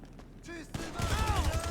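Gunfire in the video game Grand Theft Auto V: a quick burst of shots rings out, then dense rattling fire with whooshing effects, while someone talks over it.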